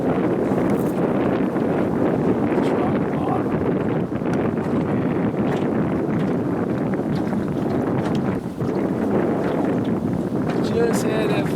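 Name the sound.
Johnson 25 hp outboard motor first start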